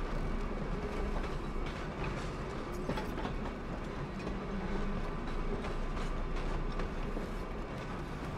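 A tram in a roleplay video game rolls along its rails with a steady low rumble and continuous clattering wheel noise. The sound is loud and unbroken throughout, with no talk.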